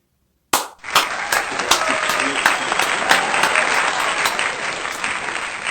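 Audience applause breaks out suddenly and holds steady: dense, loud clapping from a crowd that continues without pause after a sharp start, with no speech over it.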